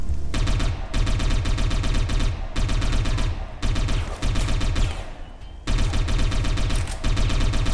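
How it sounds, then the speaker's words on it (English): Sustained automatic fire from a Satellite Reign gun, likely an Uzi-type SMG, hammering loudly and close in long rapid bursts broken by short pauses. "and now we're gonna shoot this guy"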